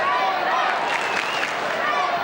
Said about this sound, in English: they've certainly got the crowd going early here at the Gabba